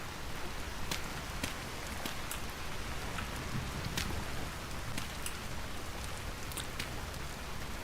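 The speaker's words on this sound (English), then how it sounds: "Hoping that we're going to get something other than rain around here." Steady rain falls in the video game Vintage Story, a continuous hiss of drops with occasional sharper ticks of individual raindrops, even in level and without any voices.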